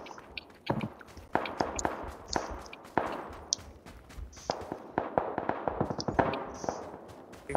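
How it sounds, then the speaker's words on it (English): Silenced gunfire in PlayerUnknown's Battlegrounds, a scattered series of sharp muffled cracks and pops, some in quick bursts, with faint clanks between them, moderately quiet and at a distance. "I hear someone shooting a silenced"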